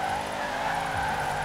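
A 6x6 Mercedes drifts in Forza Horizon 4, giving a continuous loud screech of skidding tires over a droning engine, with no pauses.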